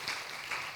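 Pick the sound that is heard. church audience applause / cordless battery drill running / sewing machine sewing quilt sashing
church audience applause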